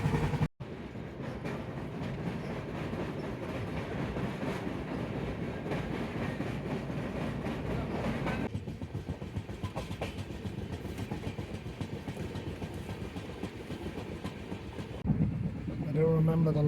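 Passenger train running on the rails toward Bangalore in India, a steady continuous rumble and clatter throughout with faint voices underneath and a brief change in tone near the end.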